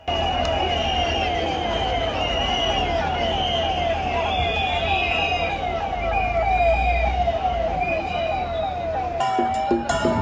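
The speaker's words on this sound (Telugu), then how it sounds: "ఆల్మోస్ట్ ఒక ట్వంటీ టు థర్టీ అంబులెన్స్లు అయితే మా కళ్ళ ముందే వెళ్ళాయి" Loud ambulance sirens wail in a steady repeating rise and fall, close by, over a constant rumble of traffic and a dense crowd at the Puri Rath Yatra festival, with a brief clatter at the end.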